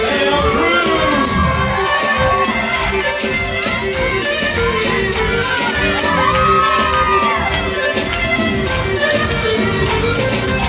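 A large wedding reception crowd cheers, whoops and shouts continuously, loud and dense throughout, with high voices rising above the roar.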